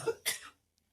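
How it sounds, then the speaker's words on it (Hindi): A single close cough with a brief throat-clearing onset, loud and abrupt, then quickly fading to silence. "सुबह से खांसी हो रही।"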